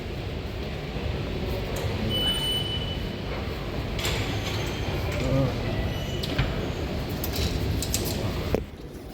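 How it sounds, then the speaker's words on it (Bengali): Steady, loud rumble and hiss inside a moving metro train, with murmuring voices beneath and a sharp drop in noise near the end. "আসছি মেট্রোর ভিতরে দেখি কী অবস্থায় যাই"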